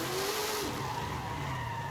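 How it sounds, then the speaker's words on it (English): A Knight Rider show car from the 1980s brakes hard in Forza Horizon 5, tires squealing and skidding in a steady high whine that dips and shifts pitch over a low engine drone, loud and continuous. "Every time you slam on the brakes and the flaps come out."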